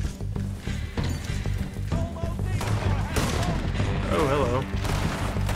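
Red Dead Redemption 2 video game gunfire, a dense, continuous barrage of shots and booms mixed with game sound effects and music, with a voice speaking briefly over it.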